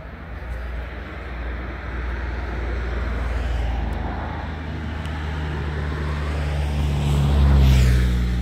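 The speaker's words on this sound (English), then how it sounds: "A bit noisy with the cars here." Continuous traffic noise from passing cars near a Lockheed Martin site in Ampthill, Bedfordshire, a steady roadside roar that swells as a heavier vehicle rumbles by near the end.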